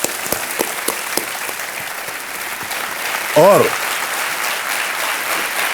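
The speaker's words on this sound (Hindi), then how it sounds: "तालियों के साथ इनका अभिनंदन" An audience applauds a contestant on the Kaun Banega Crorepati game show, with clapping rising and holding steady beneath a presenter's voice, and a short spoken word cutting in near the middle.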